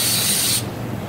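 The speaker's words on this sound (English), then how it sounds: "Anyway, you have a air gun here." Compressed air gun blowing off the top of a Bettcher BPS SSRA solvent bench, a loud, close steady hiss that cuts off abruptly after about half a second.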